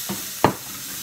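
Garlic dropped into a hot pan for Korean japchae gives a short sizzle burst, with a fainter stir or clatter just before, close and brief.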